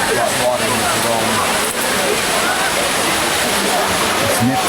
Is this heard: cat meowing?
no